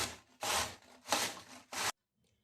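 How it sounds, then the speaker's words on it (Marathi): Cabbage is finely grated by hand for restaurant-style Manchurian, with four rough scraping strokes in quick succession, close and loud, before the sound stops abruptly into near silence. "कोबीचा कांदा आपल्याला बारीक किसून घ्यायचा आहे"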